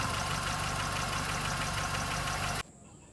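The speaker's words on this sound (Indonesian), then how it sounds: "motor engine kurang gegar sudah" A car engine runs steadily and loudly after a timing belt repair, with a constant knocking idle throb, then cuts off abruptly near the end and leaves quiet.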